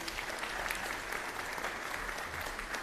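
Steady applause from an audience for graduates at a graduation ceremony, a continuous wash of clapping at moderate level with no speech.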